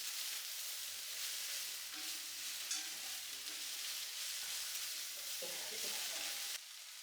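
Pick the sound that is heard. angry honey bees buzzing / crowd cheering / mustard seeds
mustard seeds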